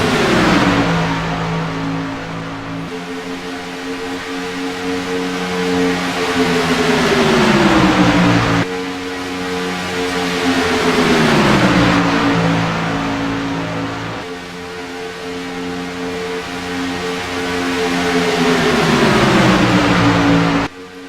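Racing truck engines roar at Talladega in a racing video game, a loud sustained multi-engine drone with pitch sweeping up and down through repeated shifts and passes, continuous throughout with no talk.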